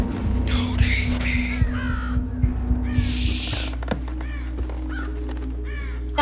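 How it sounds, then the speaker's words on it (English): Crow cawing repeatedly in the Thief stealth video game, several harsh calls over a steady low ambient drone, fairly close and clear with no talking. "Oh, that's a bird."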